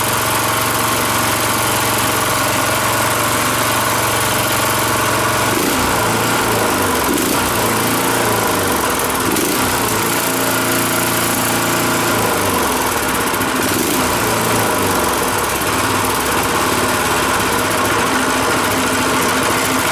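A small tiller engine idles steadily after being revived, a loud, close, continuous buzzing chug with a slight rhythmic flutter and no voices over it.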